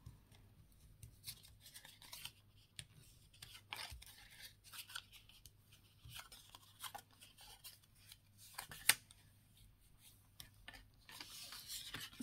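Paper card being creased along its folds, soft intermittent rubbing and scraping strokes close up in a quiet room, with one sharper tap partway through.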